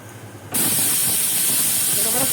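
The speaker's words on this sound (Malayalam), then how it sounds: "കുക്കറിൻ്റെ രണ്ടാമത്തെ വിസിൽ വന്നിട്ടുണ്ട്" A sudden loud, steady hiss of escaping steam starts and continues strongly as a pressure cooker of mutton stew vents its second whistle, following quieter background noise.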